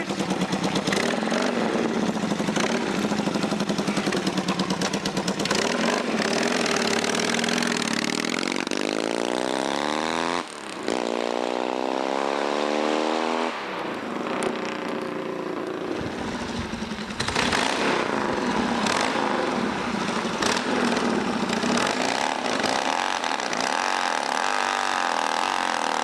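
Motorbike engines idle and rev continuously close by, with rising and falling pitch sweeps as the throttle opens, loud and unbroken throughout, with no talking.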